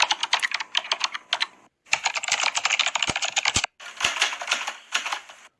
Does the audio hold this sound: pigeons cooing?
no